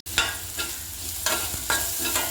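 Sliced onions sautéing in hot oil with popped mustard seeds, a loud close sizzle broken by rhythmic stirring scrapes about every half second.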